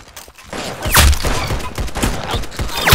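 Bursts of gunfire from the Roblox-style shooter Arsenal crackle through a steady, loud stream of rapid shots, with a few sharper cracks standing out; no talking.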